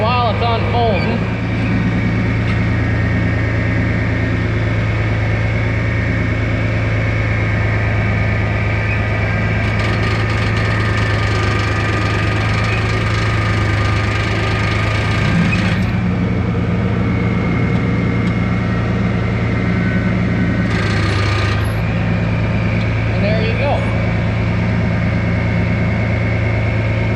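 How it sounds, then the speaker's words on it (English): A tractor engine runs steadily in low gear while pulling a planter, a loud constant low drone throughout, with a person talking over it. "Now you put the tractor in low gear."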